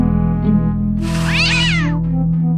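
A cat in the video game Day of the Tentacle Remastered lets out a single loud, drawn-out meow with a rising then falling pitch, heard alone over a steady low game music bed.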